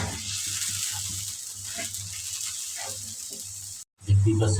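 Turmeric powder and salt sizzle steadily in hot oil while being stirred in with poma fish and radish, a dense close crackle that drops out briefly near the end and then returns louder.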